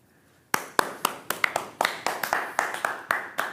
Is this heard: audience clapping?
yes